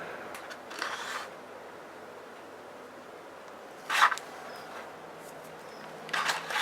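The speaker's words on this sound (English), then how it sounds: "we're going to take the red tape off the larger piece" Red backing tape peeled off a layer of card in short, crisp ripping strips, three separate pulls spaced apart against a quiet background.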